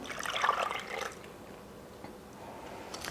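Heavy cream and half and half pour into a bowl with a soft, brief liquid splash and trickle, fairly faint and quiet, fading into low background noise.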